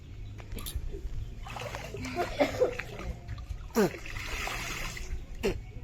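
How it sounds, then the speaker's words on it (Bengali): Children splash and throw water at each other outdoors, with irregular splashes and sloshes rising over a faint background, and children's voices calling out between them. "এদিকে ফিরে জল ঢাল, আমার দিকে ফের, ফিরে জল ঢাল।"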